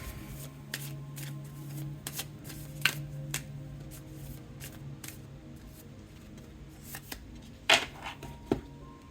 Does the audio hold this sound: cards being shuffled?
yes